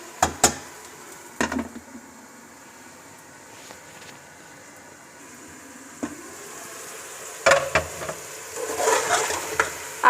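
Beef karahi simmering in a covered pan makes a faint, steady sizzle broken by a few sharp clatters of the lid and utensils, the bubbling growing more active toward the end.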